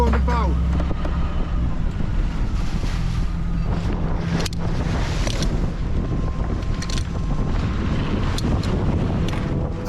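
Wind buffets a sailboat out at sea, a steady broadband rush with gusty swells and water noise, loud and continuous throughout, with faint voice traces underneath.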